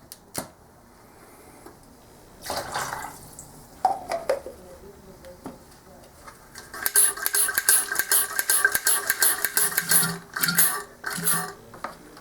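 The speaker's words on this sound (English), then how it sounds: "just suck up this fluid, and you'll see it start to fill this canister" A hose sucks fluid out of a motorcycle reservoir into a canister, giving irregular gurgling, slurping and clattering noises with sharp knocks, growing busier and denser in the second half.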